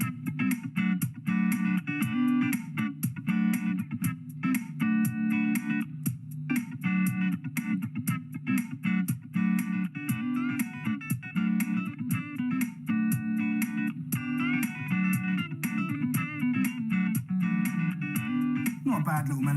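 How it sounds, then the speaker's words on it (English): Electric guitar runs through a loop pedal, with a short looped melodic phrase repeating over and over in steady rhythm, layered and sustained, loud and close with no voices. "This loop pedal only needs a few notes in order for me to create a brand new world of sound"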